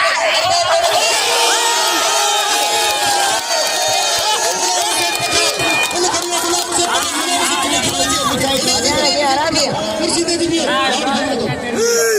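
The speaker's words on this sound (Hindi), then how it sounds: "ज़ोरदार ताली लॻे" Cheering and whooping audience at a Sindhi gathering, loud and continuous with crowd hubbub and excited voices throughout, probably with applause mixed in.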